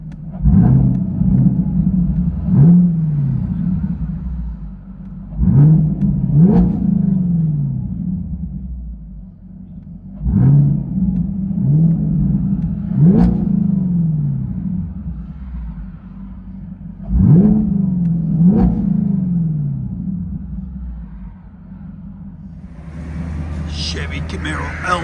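Deep V8 engine rumble heard inside a 2022 Chevy Camaro LT1 with an MBRP cat-back exhaust, repeatedly revving up and easing off in surges, loud and close, with a brief higher whine at the end.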